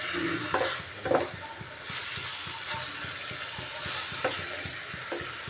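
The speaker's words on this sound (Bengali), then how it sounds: "এভাবে আমি কষিয়ে নিচ্ছি বাঁধাকপি থেকে জল বেরিয়ে এসছে" Cabbage being stir-fried in a pan for a spicy Bengali dish, with a soft continuous sizzle broken by repeated scraping and clacking strokes of a spatula stirring the wet leaves, close and moderately quiet.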